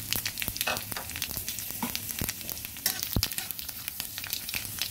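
Bay leaf, cumin and panch phoron frying in hot oil, a steady dense sizzle with crackling pops and occasional stirring scrapes, close and continuous without speech.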